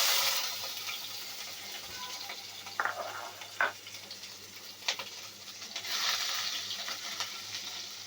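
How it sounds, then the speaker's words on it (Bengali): Chopped garlic hits hot oil left from frying dried chilies for a kochu pata bhorta, a steady close sizzle with occasional sharper spits and stirring clinks, no talk. "ওই তেলে দিয়ে দেবো রসুন কুচি।"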